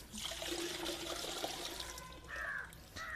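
Water is scooped and poured out of an abandoned pond, giving faint, nearby sloshing and trickling splashes in short bursts.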